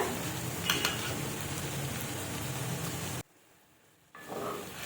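Chopped tomato hits hot oil in a pan with golden-fried cloves and cardamom for a mushroom rice dish, giving a loud, continuous sizzle under stirring that cuts out briefly before the frying hiss resumes.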